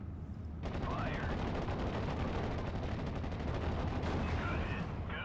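Gunfire and explosions from Steel Division: Normandy 1944 battle, a continuous loud rumbling barrage of distant shots and blasts filling the scene.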